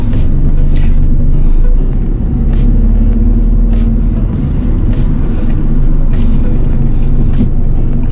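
A car engine idles at a standstill while waiting to merge into traffic, with a slight stumble; a loud, steady low rumble fills the whole stretch, heard from inside the vehicle with a faint background hiss.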